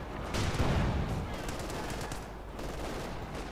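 Gunfire from a Cromwell tank in the real-time strategy game Company of Heroes 2, a dense, continuous clatter of shots and explosions at steady loudness, with a faint commentary voice underneath.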